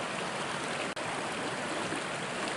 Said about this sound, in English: Look at this river. It's so just calm and serene,